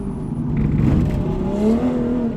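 A tuned Toyota GR Supra with its B58 engine, putting around 450 wheel horsepower, drones steadily on a race track, its pitch climbing slightly as it revs under load, heard from close by without talk.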